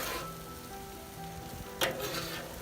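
Rice frying in olive oil on a hot outdoor griddle, a soft steady sizzle close by with a brief sharper scrape or stir near the end.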